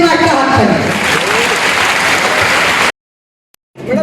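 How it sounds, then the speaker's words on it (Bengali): Applause for a whole team breaks out loud and close, a dense burst of clapping with crowd noise that runs for about three seconds, cuts to silence, then briefly resumes. "আর আমার পুরো টিমের জন্য একটা হাততালি।"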